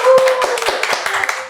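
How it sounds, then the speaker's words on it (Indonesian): Brief burst of audience clapping at an Indonesian café gathering honoring the Down syndrome parents' association chairman, scattered hand claps over a busy murmur of voices, fairly close and steady for a moment. "Boleh dong tepuk tangan kita."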